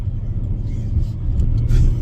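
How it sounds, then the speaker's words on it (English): Car engine idling and creeping in stopped freeway traffic, a steady low rumble close by that swells slightly toward the end, with no talk. "Just sitting in traffic."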